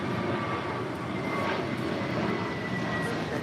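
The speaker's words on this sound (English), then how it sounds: "1225 taking off to Philly on an A321neo" An American Airlines Airbus A321neo takes off from LAX with a steady, broad jet-engine roar, sustained and moderately loud at a distance, while faint talk from plane spotters runs underneath.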